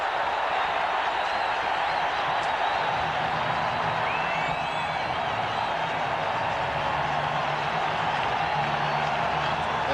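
Large stadium crowd at a 1988 Raiders–Broncos NFL football game roaring after a touchdown, a steady, dense wash of cheering and distant noise throughout with no pauses.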